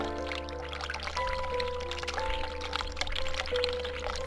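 Hot water pouring steadily into a sink in the horror adventure game The Cat Lady, a continuous close splashing pour with a faint hum underneath and no talking.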